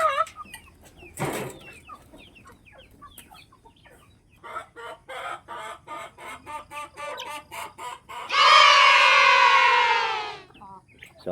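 Backyard chickens cluck softly and repeatedly while pecking at scattered feed, with a rooster crowing loudly near the end over the steady clucking.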